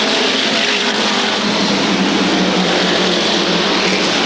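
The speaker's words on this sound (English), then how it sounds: "RPMs rise, they shift him up through the gears." An SK Modified race car at Waterford Speedbowl in 1994 roars at full volume, a dense, unbroken wall of engine noise that stays steady and close throughout.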